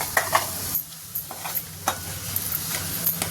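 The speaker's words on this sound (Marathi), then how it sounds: "आणि छान त्याला हलवून घ्यायचं व्यवस्थित." Spices being stirred into green chana sabzi in a pan, with a spoon scraping and clicking against the metal over a steady sizzle of frying, close and fairly loud, no voices.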